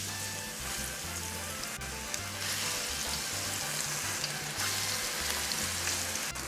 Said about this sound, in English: in the cast iron pan I have some vegetable oil that I heated up, and now we're going to add our plantain